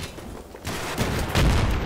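Gunfire striking the player in Battlefield 3 on the Gulf of Oman map, a loud, dense burst of shots and impacts that grows heavier in the second half, with no talk over it.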